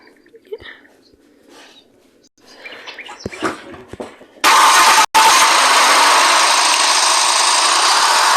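A BMW car in the Roblox video game starts up: scattered quieter sounds, then a sudden loud, steady roar that fills the rest of the clip, broken by one brief dropout.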